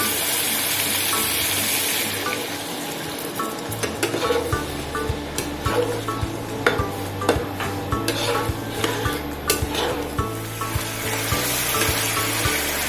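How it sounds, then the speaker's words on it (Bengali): Pointed gourd curry simmers in a pan after hot water is added, giving a steady soft bubbling and sizzle with repeated stirring scrapes and clinks of a spoon throughout. "এরপর আমি এর মধ্যে 1 কাপ পরিমাণ গরম জল অ্যাড করছি পটলটাকে সেদ্ধ"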